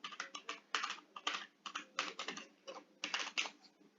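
A password goes in on a computer keyboard as quick bursts of close, crisp keystrokes with short pauses between groups, alone and fairly quiet.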